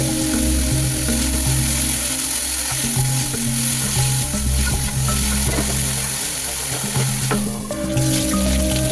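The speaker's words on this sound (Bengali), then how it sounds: "আলু বেগুনটাকেও একটু লবণ হলুদ দিয়ে ভেজে নিচ্ছি" Potato and eggplant pieces fry with salt and turmeric in hot oil, a loud steady sizzle close up with stirring scrapes and clinks throughout, no speech.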